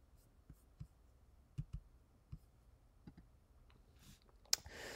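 Mouse clicks while working in GeoGebra geometry software: a handful of faint, sharp, close clicks spaced irregularly over a quiet background, with a slightly louder cluster near the end.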